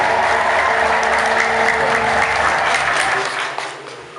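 An audience at a church dedication ceremony cheering with ululation and applauding loudly and continuously, with dense clapping that thins out near the end.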